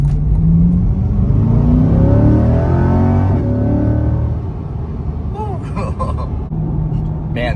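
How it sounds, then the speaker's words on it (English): A 2026 Chevrolet Corvette engine revs and accelerates, a loud close rumble that climbs in pitch, then settles, with a person talking over it. "Man, this Corvette is so fast."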